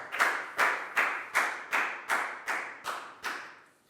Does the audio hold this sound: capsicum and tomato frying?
no